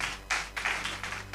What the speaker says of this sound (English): I think all of you should give a big round of applause to Mr. Kumariya.